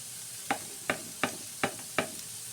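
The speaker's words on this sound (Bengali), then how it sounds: "এখানে একটু নেড়ে দেবো" A spoon stirs fish heads and bottle gourd peel in a pan, five evenly spaced scraping strokes over a faint background hiss, quiet and close, with no voices.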